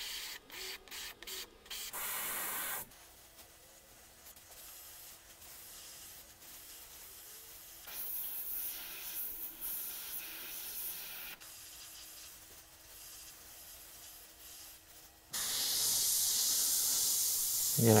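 An airbrush sprays paint onto a steampunk skull to add detail and texture, giving a steady airy hiss that starts and stops in bursts, with a louder, brighter spray near the end and no talking.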